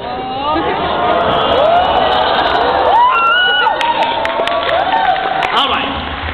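A convention audience yells and cheers at a Kawaii Kon 2012 anime event, a loud sustained crowd roar with overlapping shouts and whoops rising and falling across the stretch.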